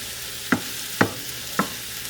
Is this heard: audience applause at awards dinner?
no